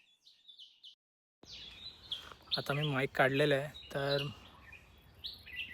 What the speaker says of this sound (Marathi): कदाचित तुम्हाला हा ऐकायला येत असेल पक्ष्यांचा किलबिलाट